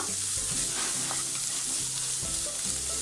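Chopped large onion sautéing in a hot pan for Chettinad egg curry, a steady close sizzle with scraping stir strokes throughout and no voices.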